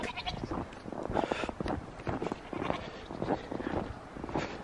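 Goats bleat repeatedly in a snowy barnyard during a November snow squall, several overlapping calls coming close and loud in a busy, uneven chorus.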